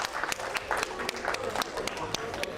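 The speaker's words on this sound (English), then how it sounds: "give a clap" Audience at a creative talk claps in scattered bursts across the room, the applause steady and moderately loud under a host's voice.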